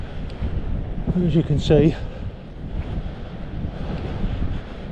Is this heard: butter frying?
no